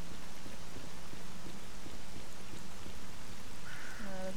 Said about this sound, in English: Oh, look at that, it's raining again.